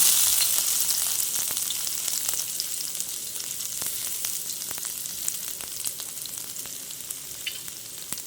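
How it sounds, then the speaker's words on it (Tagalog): Garlic frying in a little hot cooking oil for chicken feet adobo gives a steady, close sizzle with crackling pops that runs the whole time and eases slightly toward the end, with no talking. "nagpainit na ako ng konting mantika dyan, guys. Lagyan na natin yung bawang."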